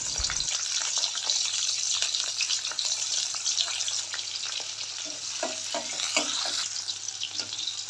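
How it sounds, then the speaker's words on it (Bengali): Okra frying in a pan, lightly cooked to stay green, giving a steady close sizzle with scattered stirring scrapes, no talk. "এইখানে আমি ঢেঁড়স ভাজি করে নিলাম"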